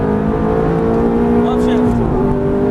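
A Ferrari F430 pulls hard at full throttle down a racetrack straight, its engine note loud and sustained from close inside the car, with an instructor's voice talking over it.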